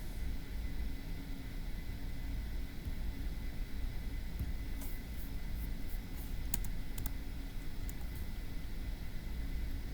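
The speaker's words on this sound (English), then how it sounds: "Okay, let's type it up." Someone types on a computer keyboard while entering a puzzle answer, with light scattered key clicks coming in small bursts over a steady background hiss.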